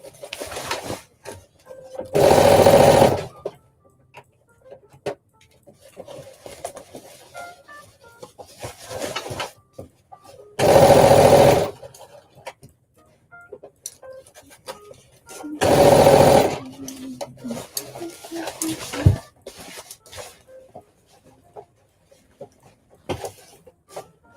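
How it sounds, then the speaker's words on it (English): A domestic sewing machine runs in three short bursts of a few seconds each while stitching a dress seam from the underarm around, with quiet rustling and handling noises between the runs. "now I'm going to start stitching at the underarm all the way around."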